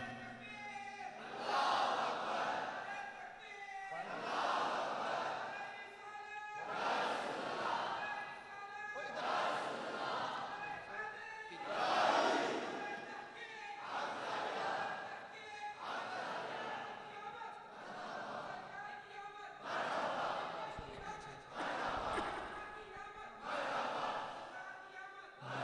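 A crowd of worshippers chants slogans in call-and-response waves at a devotional mehfil gathering in Tarlai. The voices swell loudly in a regular rhythm, with about ten surges, and a leading voice alternates with the massed response.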